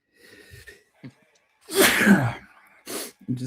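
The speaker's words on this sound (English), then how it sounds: "I'm going to sneeze." A man sneezes once, loudly and close to the mic, after a few small breaths and sniffs. A short voiced sound and a breath follow just afterward.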